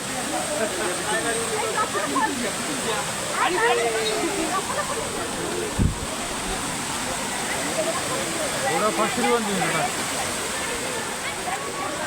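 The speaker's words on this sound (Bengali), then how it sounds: "এইখানে একটা ঝর্ণা রয়েছে, অনেকে নেমেছে ঝর্ণাতে" A waterfall at Panchalingeswar where people are bathing, pouring in a constant close hiss and roar, with faint background voices mixed into the rushing water.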